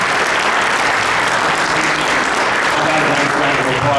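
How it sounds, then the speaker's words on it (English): A crowd at a town inauguration ceremony applauds Senator Richard Blumenthal, continuous loud clapping from many people with a faint murmur of voices underneath throughout. "So let's give him a nice round of applause, Senator Richard Blumenthal."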